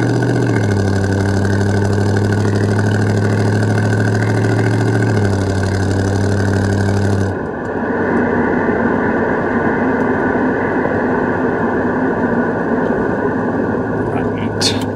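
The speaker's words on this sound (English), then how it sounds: "Today we are in this really cool 1972 Chevrolet Monte Carlo with the original 350." A 1972 Chevrolet Monte Carlo with its original 350 V8 idles steadily up close, a low, even rumble with humming tones that shift slightly partway through.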